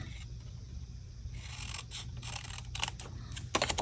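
Scissors cut through cardstock to shape a whimsical tag for a handmade Christmas card, giving a series of quiet, close snipping and scraping strokes, with a sharper cut at the end.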